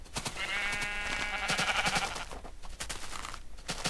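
Sheep bleating in Minecraft, a couple of wavering, nasal bleats rising out of a noisy game background with scattered clicks and thumps.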